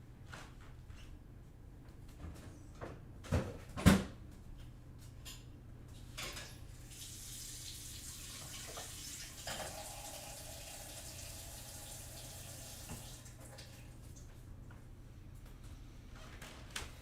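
A kitchen or bathroom tap runs steadily for several seconds, a soft continuous hiss of flowing water after a few clinks of dishes, moderately near with no talking.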